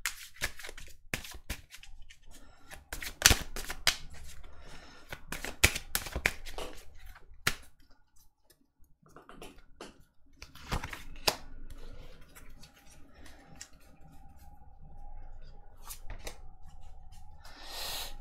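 Tarot cards are shuffled by hand in repeated sharp riffles and flicks, with quieter rubbing and sliding between bursts, close up and with no voice.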